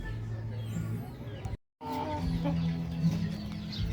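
A Tanaka stag, a young rooster nearly six months old, clucks steadily and fairly close, with a brief complete silence partway through before the low clucking and farmyard noise resume.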